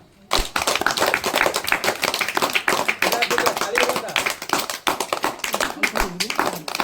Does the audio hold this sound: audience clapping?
yes